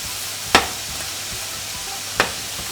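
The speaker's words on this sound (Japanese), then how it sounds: "さっと炒め合わせます。" Paprika and chikuwa stir-fry in a pan with a soft, steady sizzle, punctuated by two sharp clacks of a utensil against the pan, close and without talk.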